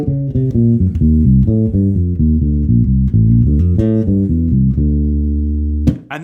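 A bass guitar plays a busy, complex line of low, close notes in quick succession, ending on a held note that fades before a brief sharp noise, with no voices.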